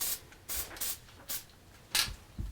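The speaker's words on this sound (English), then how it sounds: "when you're spraying, as I was just doing, you notice I did it in really short spurts" Short, sharp bursts of spray paint from an aerosol can, used while freehand lettering on round door trim: five or so separate hissing spurts spaced a fraction of a second apart, fairly close and with no talk between them.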